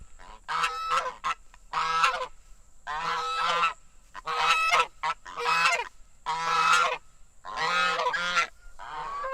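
Geese on a backyard farm honk loudly in a steady series of harsh calls, around ten bursts with short pauses between, close to the listener.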